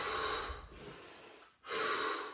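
Close breathing during a beginner home workout exercise: two long, airy inhalations separated by a brief pause, loud and near, with no talking.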